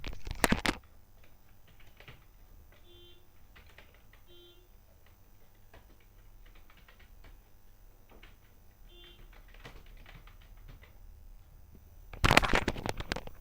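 Sparse, light clicks of a computer keyboard in a quiet room, with short bursts of keystrokes separated by pauses and a louder clatter at the start and end.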